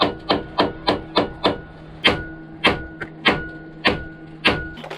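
A recessed end cap on a tube stack is tapped loose with a hammer: about a dozen sharp metallic knocks, evenly paced at first and then slower, ringing close and loud.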